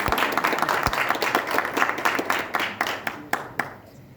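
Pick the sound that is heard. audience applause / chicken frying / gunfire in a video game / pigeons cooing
audience applause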